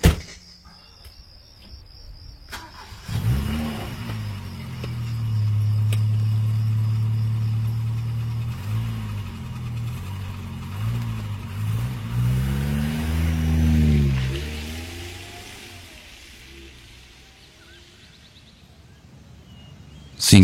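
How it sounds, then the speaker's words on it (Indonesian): A pickup truck engine on the road to Indramayu, steady and droning, rising and falling as it shifts and revs, then fading away and leaving crickets chirping in the background. "Pagi itu sekitar jam 5:30, aku dan Joni pergi mengendarai mobil pick up menuju Indramayu."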